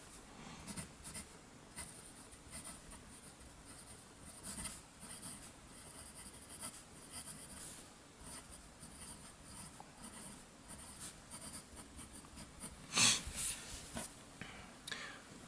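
Quiet, steady scratching of a Cross ATX fountain pen nib moving across ivory 52-gram Tomoe River paper, with soft strokes and brief pauses, one sharper scrape near the end.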